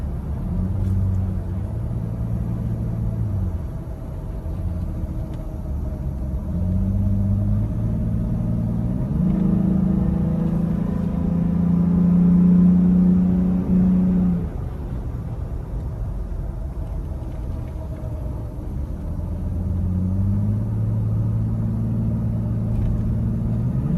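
Pickup truck fitted with a Hellwig sway bar and R1 Concept rotors cruising on the road, its engine droning low and steady from the cabin, swelling in pitch and loudness as it accelerates through gears, then easing off.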